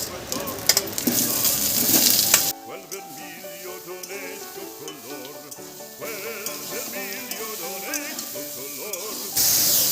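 Steamed kohlrabi is tipped into a pan of sizzling spices, giving a loud burst of frying hiss. It settles into steady crackling with light stirring and a renewed surge of sizzle near the end.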